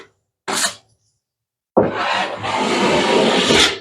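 A drywall knife swipes down through joint compound while prepping a drywall seam for tape: one short scrape, a pause, then a longer continuous rasping drag, close and fairly loud, with no talking.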